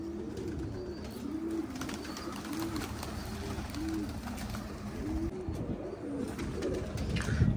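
Pigeons, including a white-eyed Romani breed, cooing in a loft, repeated soft throaty coos in a steady rhythm close by, with rustling and faint background noise.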